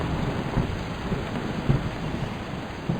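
In the video game Savannah, a steady hiss of rain plays under low, rolling thunder rumbles from lightning in the distance. The storm sounds continuous and moderately loud, with no talking.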